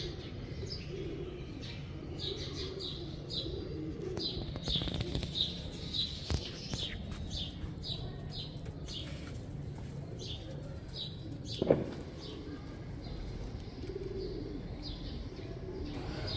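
Pigeons coo and chirp steadily in a loft while baby pigeon chicks, teddy and other breeds, are taken out by hand, with a brief flutter of wings and a sharp knock partway through.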